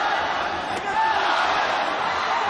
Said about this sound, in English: This crowd erupts here at Lumpini Boxing Stadium.